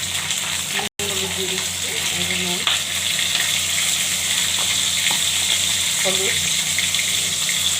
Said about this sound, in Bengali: ভালো করে ভেজে নেব পটলটাকে।